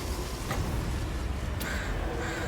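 Crows cawing in the Total War: Warhammer 2 fantasy strategy game, a couple of short harsh calls rising briefly above a dense, steady battle ambience with no talk over them.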